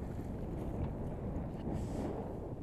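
Steady wind buffeting the microphone on a sailboat arriving at a mooring off Saint-Denis, Île d'Oléron, a continuous broadband rush without pause and no talk.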